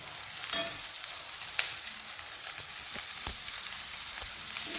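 Cooked rice stirred in a hot pan while making pepper rice: a steady close sizzle with repeated scraping and stirring scuffs at an uneven rhythm.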